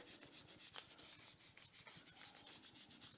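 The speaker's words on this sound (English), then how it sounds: "then again rub to activate the adhesive" Adhesive tape being rubbed briskly to activate its adhesive, a steady rhythm of close, soft scratchy strokes repeating several times a second, quiet and with no voices.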